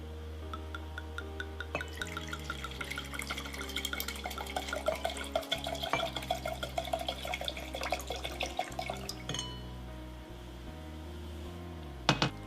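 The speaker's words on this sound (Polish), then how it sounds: "po chwili nalewamy od 170 do 200 ml wina" Wine, about 170 to 200 ml, being poured into a glass: a faint, continuous trickle and patter of liquid, quiet under steady background music, stopping after several seconds.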